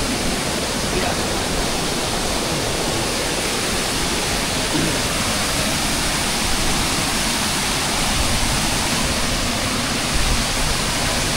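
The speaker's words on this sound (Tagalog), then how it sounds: "para makarating tayo dun sa pinabagsakan ng tubig" A waterfall roars steadily and loudly, a dense, unbroken rush of falling water close by with no pauses.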